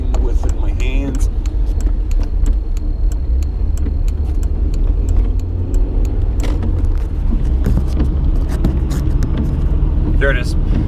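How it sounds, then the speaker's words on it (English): Interior of a 2007 Volkswagen Golf on the road, with a continuous low engine and road rumble and a few brief clicks and rattles, while a person talks over it. "now I'm driving the 2007 Volkswagen CITY, which is a Golf, back home"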